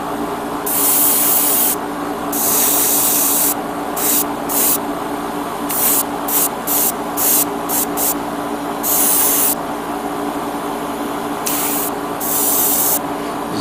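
An airbrush or spray can lays a top coat onto a Gundam model kit part in repeated close hissing bursts of varying length, over a steady background hum of a fan.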